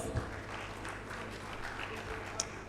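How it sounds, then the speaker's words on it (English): Audience applause at a Uganda agriculture innovation presentation event, steady clapping throughout, fairly faint and distant, with a little background talk underneath. "Give them a round of applause."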